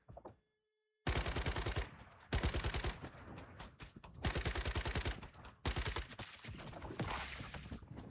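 Rapid automatic gunfire in Once Human, loud and close, delivered in several sustained bursts separated by brief gaps after a quiet opening second.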